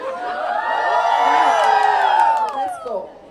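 A crowd at a meet-and-greet performance event cheers and whoops loudly for about three seconds, many voices rising together before fading.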